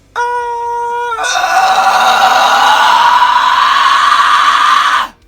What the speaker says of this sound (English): I'm going to demonstrate how to gradually add vocal fry into a head voice note